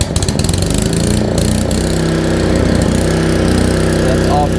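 A Honda pump engine being repaired runs loud and close, starting with a choppy rhythm before settling into a steady, even drone that holds for the whole stretch.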